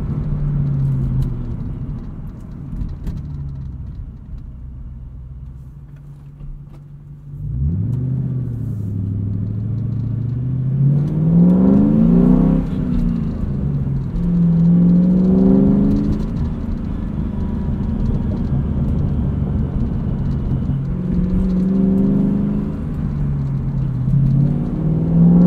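A 2003 Ford Mustang Mach 1 engine hums steadily while cruising, then rises in pitch through several accelerating revs and gear changes, loud and close, with tire and road rumble underneath.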